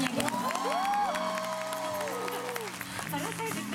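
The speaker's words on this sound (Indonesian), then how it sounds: "Jadi boleh tepuk tangan biar" A concert crowd claps and cheers, with voices whooping and calling out over the steady applause.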